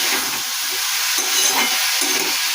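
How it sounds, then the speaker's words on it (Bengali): Bitter gourd fries with turmeric in a pan, a steady loud sizzle and hiss with soft scraping stirs now and then, close up and without talk. "দেখুন কীরকম মজমজে উচ্ছে ভাজা হবে"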